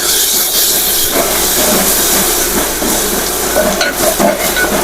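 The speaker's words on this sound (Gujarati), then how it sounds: "હવે ચટણીને પણ આપણે સારી રીતે મિક્સ કરી લેશું" Okra curry sizzles loudly in a pan as chutney is stirred through it, a steady broad hiss of frying with scraping stir strokes throughout.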